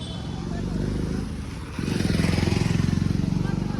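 Motorcycle engine being push-started, running rough and loud, then catching and rising into a steadier, stronger throb partway through; muffled voices sit faintly underneath.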